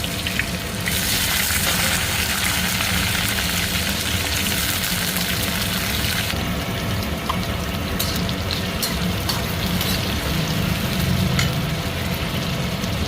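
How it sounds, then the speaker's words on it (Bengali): Cumin seeds and eggplant frying in hot oil for a Bengali greens dish, a steady broadband sizzle that stays loud and constant throughout, brightening and crackling harder partway through. "তেল গরম হয়ে গেছে, তেলে দিয়ে দিলাম জিরে, দিয়ে দেবো বেগুন।"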